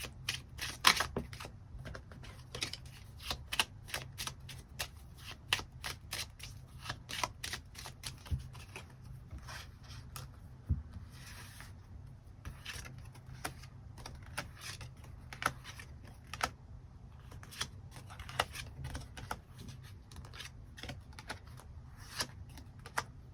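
Tarot cards being shuffled and drawn at a Korean weekly tarot reading, giving a steady run of crisp papery flicks and snaps up close, under a faint low hum, with no voices.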